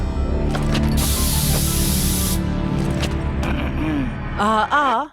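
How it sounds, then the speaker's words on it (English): A long hissing rush of helium being inhaled from a balloon or canister in an animated cartoon scene, layered over background music and followed at the end by a squeaky, high-pitched voice. "has to inhale some helium first"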